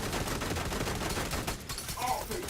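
Automatic gunfire from a hostile assault turret in The Division 2, a steady dense stream of shots filling the whole stretch at constant loudness with other game noise mixed in.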